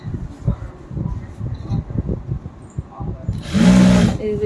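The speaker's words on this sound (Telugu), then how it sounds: "ఈ విధంగా చుట్టూరు కుట్టుకోవాలి." A sewing machine stitches gathered fabric around a seam, with a short burst of whirring near the end that follows a stretch of speech.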